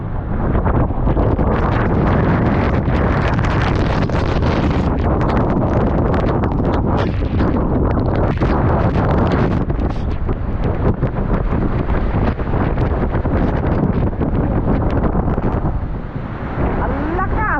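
Strong typhoon wind roars by the sea, buffeting the microphone in a loud, continuous rush with gusting surges throughout, and faint water noise beneath.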